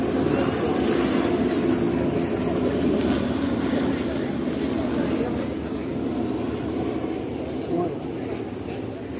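Bell 206 and AW119 helicopters flying in formation over an air force parade in Jashore, a loud, steady, close rotor and engine roar that fills the whole stretch, with voices talking over it.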